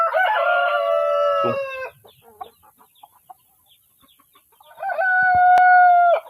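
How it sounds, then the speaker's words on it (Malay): Free-ranging chickens give a loud rooster crow near the start and another at the end, with scattered soft clucks and small farmyard sounds in the quieter gap between them. "Kena halau dulu ayam ni masuk."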